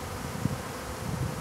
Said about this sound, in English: We just had this swarm come off of the squirrel cage, and it's moving into here.